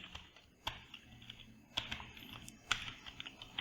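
Quiet, scattered keystrokes on a computer keyboard, a few sharp clicks spaced irregularly over a few seconds with soft room noise between, no talking.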